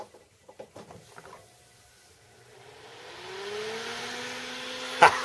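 Repaired 120mm cooling fan spinning up after a few faint taps, its airy whir and rising motor tone growing steadily louder over several seconds, with a couple of sharp clicks near the end.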